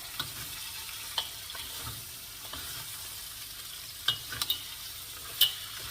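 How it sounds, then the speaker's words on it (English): Mud crab and vegetables being stirred in a wok for XO sauce, giving a steady low sizzle with a few sharp scraping clacks of the utensil against the metal. "Just put it in slowly and start stirring."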